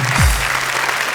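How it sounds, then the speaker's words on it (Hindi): Applause at a Hindi poetry recital show rolls as a dense, steady wash of clapping through the short stretch, with a brief low thump near the start. "तालियां बजाइए।"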